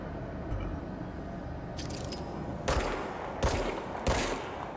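Gunfire from a weapon in a video game, a sharp single shot followed by three evenly spaced heavier blasts over steady low background noise, no talk.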